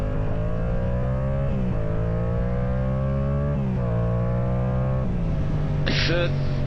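A Yamaha R7 motorcycle engine drones loudly from the rider's position, its pitch climbing through gears with several shift drops, and a brief burst of wind or road noise near the end.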